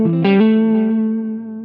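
A single sustained electric guitar note on the neck pickup with heavy overdrive rings out, smeared by echoing delay and a long reverb tail as it slowly fades.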